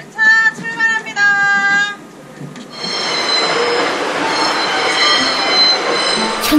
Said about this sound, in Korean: 향긋한 나물 싣고 열차가 승부역을 떠나갑니다